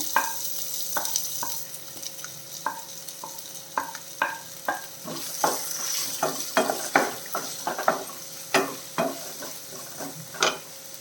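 Chopped onion sautéing in a pan for a capsicum mushroom masala, with a soft sizzle under a string of rhythmic spatula scrapes and taps against the pan, close and fairly loud.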